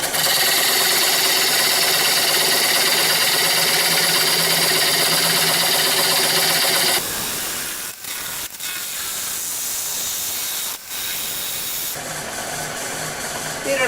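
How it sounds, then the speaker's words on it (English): Ash platter spinning on a wood lathe at 600 RPM gives a loud, steady broadband whir for about seven seconds, then drops to a quieter hum broken by brief dips before the noise swells again. "Lathe is going at 600 RPM."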